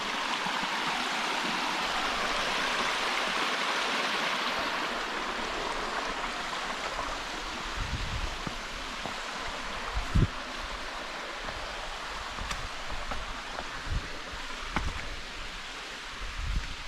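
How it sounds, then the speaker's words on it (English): A waterfall in the Zejmarska gorge of Slovensky Raj rushes steadily nearby, a constant splashing hiss of falling water, with a few brief knocks and footstep sounds over it. "And another waterfall."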